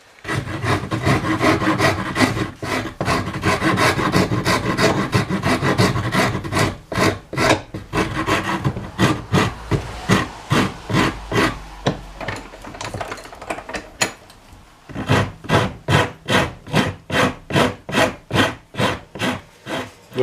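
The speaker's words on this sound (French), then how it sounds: "Maintenant je vais couper les angles et ensuite je le lime." Steady rasping of a file across the edge of a cut plywood disc, first continuous then in distinct rhythmic strokes, close and loud with no talking.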